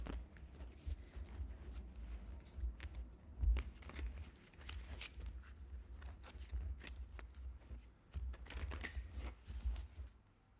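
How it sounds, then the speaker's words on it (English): Tarot cards are shuffled close to a microphone, with steady papery riffling, scraping and soft slaps continuing for about ten seconds over a low rumbling hum. "If the microphone is too loud with the shuffling of the cards, let me know"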